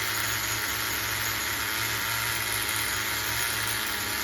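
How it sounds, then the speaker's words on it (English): A worn, secondhand HPI MT2 RC monster truck's nitro engine idles steadily on a rich tune, giving a continuous buzzing drone with no talk over it. "I like the idle. The idle sounds good."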